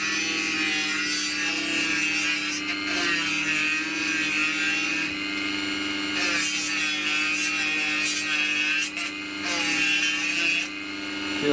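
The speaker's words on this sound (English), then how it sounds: "But I find my little Dremel does a really good job" Small Dremel rotary tool sanding a Corian worktop pen blank, giving a steady close grinding and rubbing noise that runs throughout with slight surges in intensity and no talking.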